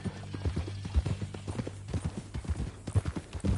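Horse hooves clip-clopping in the video game Red Dead Redemption 2, a brisk, steady rhythm of close, distinct hoof strikes, with a low steady hum beneath.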